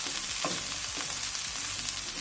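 Tender broad beans fry gently in oil over the lowest heat, a soft, even, close-up sizzle with faint crackles and the occasional stir, with no voices.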